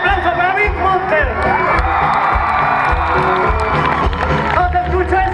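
Loud crowd cheering, whooping and clapping for a rock band at a live show, with shouting voices and a bright roaring mass of sound held steady throughout.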